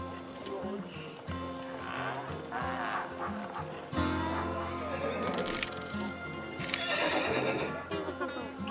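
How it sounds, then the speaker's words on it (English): A horse neighs in the city-building video game SteamWorld Build, a clear whinny with clip-clop and cracking effects layered over game music and background ambience. "I heard a horse."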